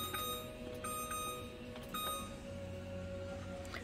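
Short electronic beeps from a kitchen timer while baking gluten-free madeleines repeat at an uneven pace, thin and fairly close over a steady kitchen hum.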